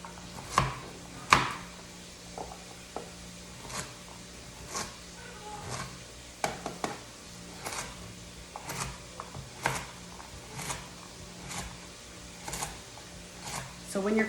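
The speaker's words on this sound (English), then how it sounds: "So I'm just gonna cut these carrots up and give us some smaller bite-sized pieces to add" Carrots being cut with a chef knife on a cutting board for a homestyle chicken stew, with sharp irregular chops striking the board and sparse quieter knife taps between them.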